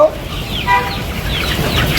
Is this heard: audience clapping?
no